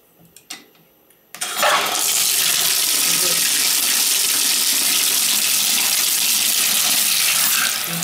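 Water gushes from a hotel shower head in a basic hotel bathroom, a loud, steady spray that starts abruptly after a few faint clicks and runs on without pause.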